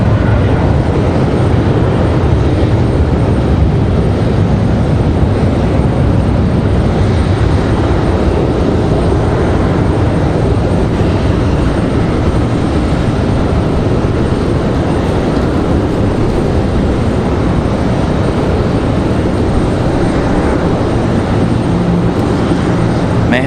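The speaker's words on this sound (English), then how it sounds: "Got an A319 on the move." An Airbus A319 moving at Raleigh Durham airport gives off a steady, loud broadband engine rumble and rush that holds unchanged throughout, with no voices.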